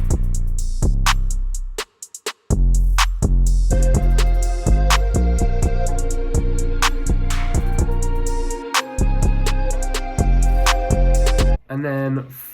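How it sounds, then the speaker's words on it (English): Loud hip-hop type beat, with punchy kicks, snares and hi-hats over deep booming 808 bass, driving steadily with a couple of brief dropouts before cutting off near the end. "all of the drums together sound like this with the 808 as well"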